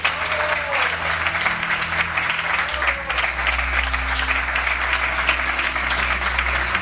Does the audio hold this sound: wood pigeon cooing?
no